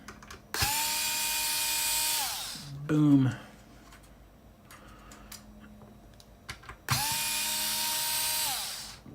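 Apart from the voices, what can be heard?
power drill drilling out GameCube plastic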